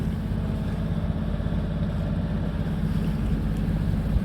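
A sailboat's engine motors slowly against the current near Conwy, a steady low rumbling drone with constant loudness and no talk over it.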